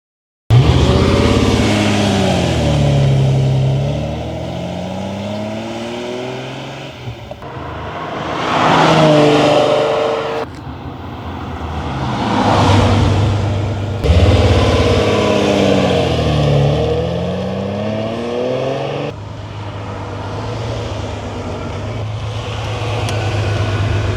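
A Ferrari Testarossa engine roars and revs as it drives, the pitch rising and falling through gear changes, loud and close throughout.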